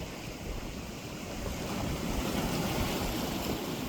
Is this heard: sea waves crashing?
yes